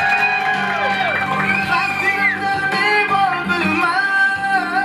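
Guests at a 23rd wedding anniversary celebration cheer, whoop and clap together, a dense, lively crowd noise that holds steady throughout with raised voices mixed in.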